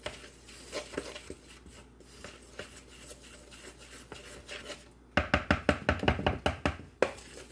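Pumpkin roll batter stirred in a bowl, with a run of quick, regular scraping strokes toward the end following softer, scattered stirring sounds, close up and with no talking.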